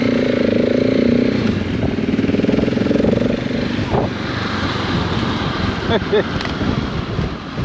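A Yamaha motorcycle rides along a road, its engine droning loud and close with rumbling revs that ease off partway through, under steady wind noise.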